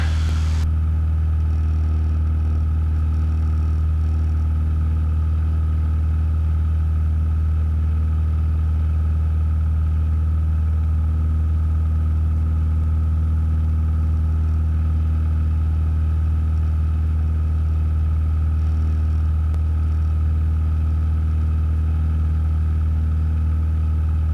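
Cessna 172 single-engine propeller aircraft engine running steadily in cruise climb, a loud constant low drone with strong harmonics heard from inside the cabin, unbroken for the whole stretch with no talking.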